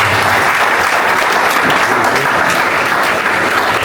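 Loud, dense applause from a crowd at a college week celebration carries on steadily for about four seconds, close and unbroken, with no speech over it.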